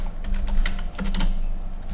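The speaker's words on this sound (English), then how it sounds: "Let's try and type correctly." Quick bursts of keystrokes on a computer keyboard, close clicking taps in uneven runs over a low steady hum, with no voices.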